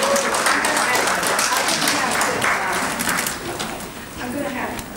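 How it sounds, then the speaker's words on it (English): An audience claps together at a public comment hearing on a SWEPCO matter, a loud, dense burst of applause that thins toward the end, with voices mixed in. "we can't have applause each time"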